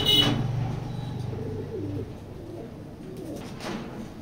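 Racing pigeon cooing nearby in a few low, throaty rolling calls, the first one strongest, then quieter coos trailing off with a brief flutter near the end.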